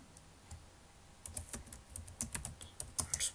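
Keys clack on a computer keyboard as a blog post title is typed into a Joomla 2.5 page, starting sparse and then speeding into a quick, fairly close run of clicks with no talking.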